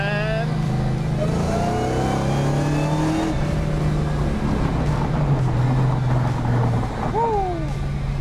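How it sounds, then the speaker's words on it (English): A Dodge Hellcat V8 engine revs and accelerates past with a rising whine and roar, under wind noise and people talking in the car. "something about them Hellcat engines and that squall, if you will. That whine."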